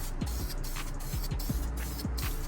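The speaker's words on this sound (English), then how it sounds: "Putting the primer on right now. This is how I spray mine." Primer hisses from a spray can onto a valve cover off a Chevy Caprice 5.3 LS swap in a backyard, heard as a steady close hiss broken by several short, regular bursts, with no talking.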